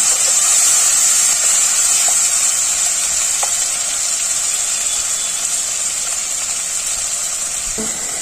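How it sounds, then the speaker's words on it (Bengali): Onions and tomatoes frying together in a pan for egg tadka, a loud, close, continuous sizzle with a few faint clicks and no talk. "পেঁয়াজ আর টমেটো আমি একসঙ্গে একটু ভালো করে ভাজা ভাজা করবো"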